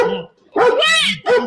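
A dog barks in a few loud, close bursts in an indoor setting, with a voice speaking around the barks.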